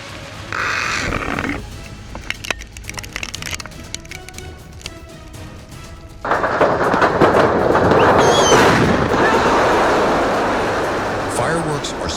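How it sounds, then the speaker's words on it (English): A demolition blast takes down part of the lower Oroville structure, heard as a deep, loud rumbling roar that swells and sustains for several seconds after a calmer stretch, with a voice talking over the earlier part. "The explosion was a powerful final punctuation mark for part of the lower Oroville structure"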